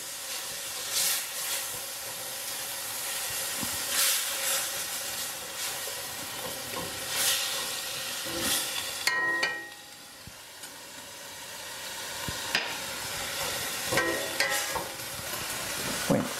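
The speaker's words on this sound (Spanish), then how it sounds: "La vamos a sofreír ahí también. El champiñón. Y lo vamos a sofreír ahí también." Mushrooms and beef sautéing in a pan for rice with beef and vegetables, a steady close sizzle and hiss with occasional stirring scrapes and clatter, no talking.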